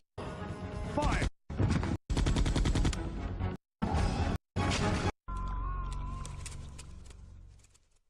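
Gunfire in a Resident Evil video game: loud bursts of shots chopped into several blocks over about five seconds, then a sustained ringing tone that gradually fades.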